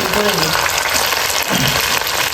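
Chicken frying in hot oil, a loud, continuous close sizzle filling the space, with a brief voice murmuring underneath at the start.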